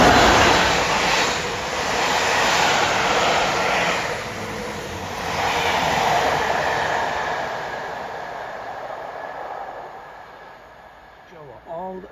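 Class 87 electric locomotive 87-002 Royal Sovereign passing through Warrington Bank Quay station, a broad rushing roar that swells and fades over several seconds, with people talking nearby.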